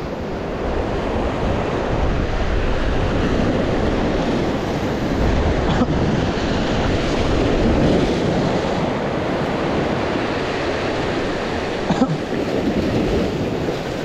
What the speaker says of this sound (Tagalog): Lalaki nga lang rin ang alon.